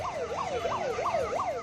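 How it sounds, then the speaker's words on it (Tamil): A siren on a Coimbatore city police electric auto-rickshaw patrol vehicle wails loudly and close by in quick rising and falling sweeps, about five cycles in a row, with no talking. "எச்சரிக்கை ஒலி எழுப்பும் சைரன்"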